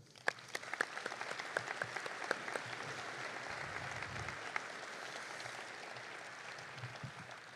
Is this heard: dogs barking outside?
no